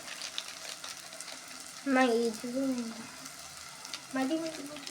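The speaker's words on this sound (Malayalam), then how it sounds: "ഇതിൻ്റെ പച്ചമണം മാറണ വരെ നന്നായിട്ടൊന്ന് മിക്സ് ചെയ്ത് കൊടുക്കാം" Kashmiri chili powder masala fries in oil for a fish curry and is stirred. A low, continuous sizzle with light stirring sounds runs underneath as someone talks in a few short stretches.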